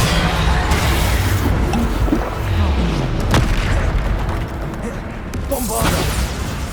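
Bombarda spell blasts from Hogwarts Legacy boom loudly in a busy combat mix, several heavy impacts and rumbles layered over constant battle noise, with a voice chanting spell names throughout.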